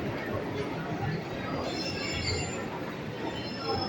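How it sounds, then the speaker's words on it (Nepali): A crowded train arrives at a Bucharest-area station, its wheels giving high, thin squeals over a steady rumble of the moving cars, with people talking nearby. "ट्रेन आइसक्यो।"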